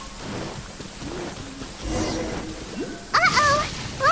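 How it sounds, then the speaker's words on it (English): Minecraft thunderstorm with steady rain hissing throughout, a low rumble of thunder near the middle, then sharp high bird-like calls or cries near the end; brief voiced sounds appear early. "Uh-oh! Lightning storm!"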